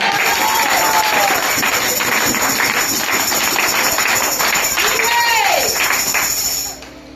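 Steady applause from a crowd fills the space, loud and sustained, with voices rising over it before it fades near the end.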